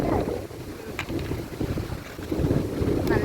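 Strong wind sweeps over Thumbachi hill in Idukki, a continuous roaring rush that buffets the microphone in loud, uneven gusts throughout, with no talk.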